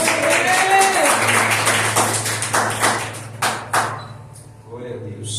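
Church congregation applauding during a sermon: a crowd claps in a dense burst that thins into scattered claps, over a constant low electrical hum and a few brief tones.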